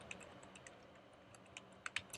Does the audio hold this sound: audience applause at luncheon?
no